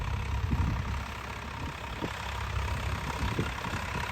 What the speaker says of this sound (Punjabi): ਲਓ ਜੀ ਕਰਤਾ ਸਟਾਰਟ ਟਰੈਕਟਰ ਦੇਖੋ ਕਿਵੇਂ ਧੂਆਂ ਮਾਰਦਾ